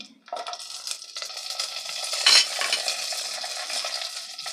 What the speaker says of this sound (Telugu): ఈ కొద్దిగా ఫ్రై అయ్యాక 3 మీడియం సైజు మిర్చిని వేసుకోవాలి.